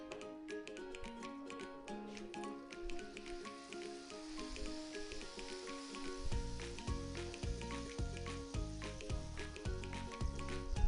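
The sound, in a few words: food frying in oil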